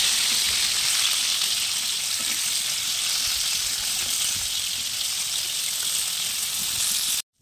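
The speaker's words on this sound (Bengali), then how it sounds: "পটলগুলো ছেড়ে দিচ্ছি আমি তেলে, আস্তে আস্তে ছাড়বেন, হাতে ছিটা লাগবে, দিয়ে হালকা করে নেড়ে দেবেন" Pieces of pointed gourd (potol) frying in hot oil make a loud, continuous hiss and sizzle that holds steady for several seconds, then cuts off abruptly.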